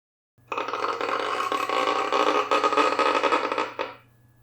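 A violin bowed with heavy pressure imitates a heavy door creaking open, giving one gritty, crunchy sustained stroke of about three and a half seconds that swells slightly before cutting off, alone.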